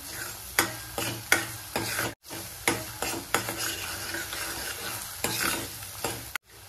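Masala sautéing in oil for shev bhaji, with a spoon stirring and scraping the pan in repeated clinks over a steady close sizzle, broken by two brief gaps.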